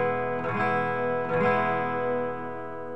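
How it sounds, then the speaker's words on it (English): Two full strums across all six strings of a guitar ring out close and sustained, the second chord landing about a second after the first and both fading slowly, with effects colouring the tone and nobody talking. "we need to strum all six strings this time."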